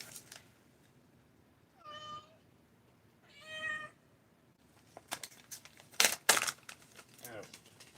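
A cat gives two clear meows a couple of seconds apart, close to the mic, followed by crinkling and rustling handling sounds as a person speaks.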